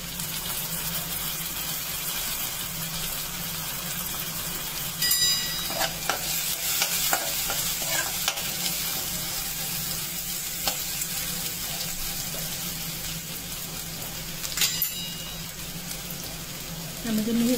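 Onion frying in a pan until soft for a Bhogi vegetable dish, a continuous steady sizzle with occasional stirring scrapes and clatter, close and fairly loud, with no talking.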